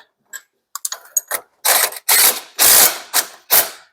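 A Toyota Starlet part is clamped into a resurfacing machine with clicking, ratcheting metal clanks: a few sharp clicks first, then five louder, longer rasping bursts, close and with no talk.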